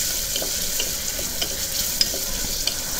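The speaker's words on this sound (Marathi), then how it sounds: "5 ते 6 लसणाच्या पाकळ्या आपल्याला त्याच्यात घालून थोडंसं फ्राय करून घ्यायचं आहे" Garlic cloves fry with onion and tomato in a pan, a loud, close, continuous sizzle punctuated by a few sharp spatula clicks and stirring scrapes.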